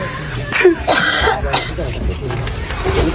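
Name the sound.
cough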